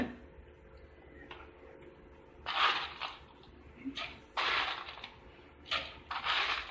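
Ice cubes drop into a muskmelon shake, giving several short crunchy, rattling bursts close by, separated by quieter stretches.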